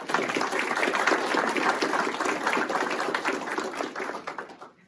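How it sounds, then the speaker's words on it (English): Audience applause at a county sheriff's department promotion and awards ceremony, a dense steady burst of many hands clapping that swells, holds and then fades away near the end. "Round of applause."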